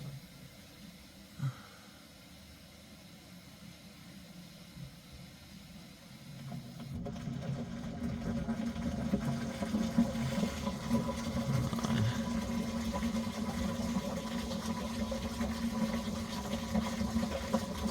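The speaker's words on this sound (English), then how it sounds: "washer and dryer." A home washer and dryer run in the background, with a faint hum first and then a louder, steady mechanical whir and rumble that starts partway through and continues with no talk.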